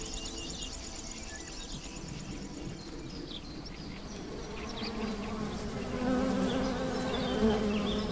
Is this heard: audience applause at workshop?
no